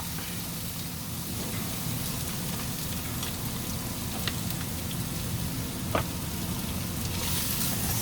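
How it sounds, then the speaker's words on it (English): Half a red onion and two smashed garlic cloves frying in a pan, giving a continuous broad sizzle like steady rain, with a couple of faint clicks and no talking. "I love the smell of garlic and onion cooking."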